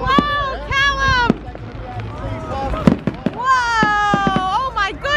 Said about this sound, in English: Do you see the fireworks?